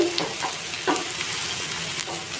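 Bitter gourd sizzles steadily in hot oil in a pan, with a few scraping stirs of a spoon cutting through the continuous frying hiss.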